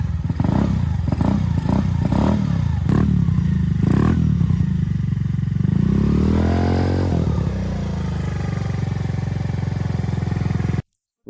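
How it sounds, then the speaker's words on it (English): A repaired Chinese scooter engine running close by, loud with a few sharp revs at first, then a rising and falling rev, settling into a steady idle before it cuts out. "our scooter came back to life and sounded like a gangster"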